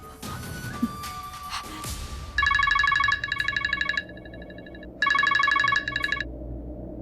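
A telephone call to a lawyer rings out in two loud bursts of electronic ringing tone separated by a short pause, after some brief clatter at the start.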